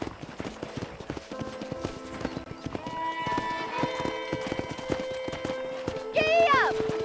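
Horse hooves clip-clop at a steady gallop in the Western game Red Dead Redemption, a regular rhythmic beat under music and ambient game sound, ending with a loud horse whinny.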